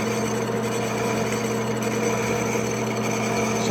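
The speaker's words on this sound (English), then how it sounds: "I'll do a single cutter, got a narrow single cutter that I'm going to use to finish the gullet between the splines." A horizontal milling machine runs a narrow single cutter through the gullets between splines on a six-spline part, giving a steady, loud mechanical drone with a constant hum and no talking.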